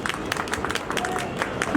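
An audience claps to welcome event organizers at a gathering, a brief burst of mixed clapping and crowd noise with some voices underneath.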